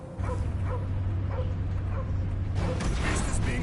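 Cosmo the dog in the video game Guardians of the Galaxy barking in a series of sharp, evenly spaced yips over a low droning background, loud and close, growing busier toward the end.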